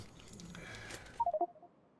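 Telephone dialing tones in a Factorio PvP match: a quick burst of four or five short electronic beeps near the end, following a brief murmur of faint background noise.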